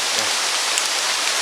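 Steady broadband hiss of rain falling, constant and fairly close, with no voices over it.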